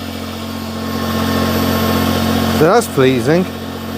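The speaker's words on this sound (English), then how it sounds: "The engine still starts." A Smart ForTwo car engine idles steadily after starting, a constant low hum running throughout, with someone speaking briefly over it near the end.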